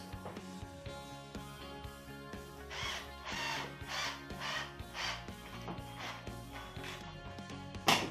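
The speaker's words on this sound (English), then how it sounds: "it's not hard to use power drill" A power drill drives a screw into a small piece of wood, giving repeated scraping, grinding bursts in a steady rhythm, close and moderately loud.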